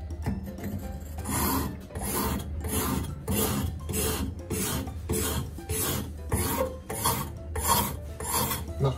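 Flower shears being sharpened on a whetstone, a steady back-and-forth rasping of steel across stone in regular strokes, close and fairly loud, with no talking.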